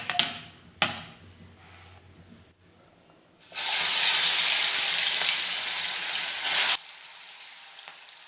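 Spinach pieces drop into hot oil, and a loud, dense frying hiss swells suddenly and holds for about three seconds before cutting off. A few sharp clatters and quieter handling sounds come before it.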